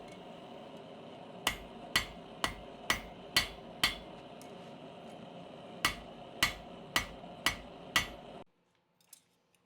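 A hammer strikes hot steel tong halves for giant tweezers in a forge shop. Sharp metallic blows ring out at an even rhythm, about twelve of them with a short pause midway, then stop.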